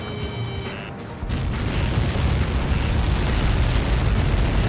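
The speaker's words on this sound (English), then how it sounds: "How many got caught in that explosion?" A huge explosion in the air-combat video game Ace Combat 7 starts abruptly after a moment of quieter tones. It becomes a loud, sustained roar and rumble that fills the whole clip.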